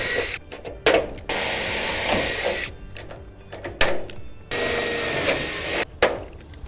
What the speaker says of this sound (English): we just need to drill and rivet that on.